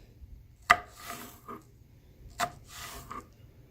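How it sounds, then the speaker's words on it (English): A knife slices an apple in two close bursts, each a sharp cut against a board followed by a short crisp rasp through the flesh, separated by quiet. "We're going to slice a little piece of apple."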